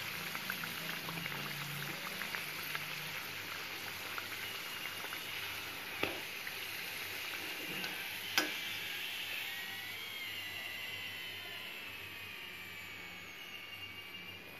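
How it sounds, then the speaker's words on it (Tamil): Stuffed vegetable samosas deep-fry in hot oil, a steady bubbling hiss that runs on and on, close and moderately loud, with a couple of sharp clicks and no voices. "இந்த எண்ணெயில் போட்டுடுக்கிறோம். பார்த்தீங்கன்னா அப்படி நல்லா பொரிஞ்சு வரும்."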